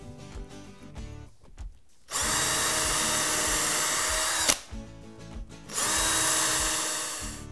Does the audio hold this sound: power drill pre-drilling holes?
yes